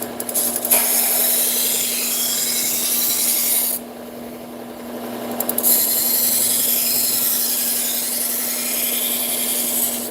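Knife blade being sharpened on a grinder, taking down the bolster, a continuous rasping grind with a steady motor hum, interrupted by a short pause in the middle before resuming.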